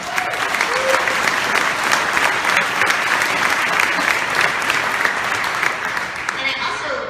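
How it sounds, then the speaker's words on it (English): Dense, loud applause from a large audience at an awards event, steady and sustained for several seconds before tapering slightly at the end. "We have a round of applause for them."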